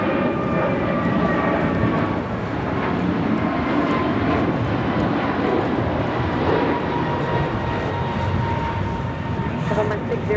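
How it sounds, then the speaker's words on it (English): An American Airlines A321neo jet takes off at LAX, a loud sustained engine roar with broad rumble and faint whining tones, continuous throughout, with a voice talking over it. "that was American 1959 taking off to Miami on an A321 Neo"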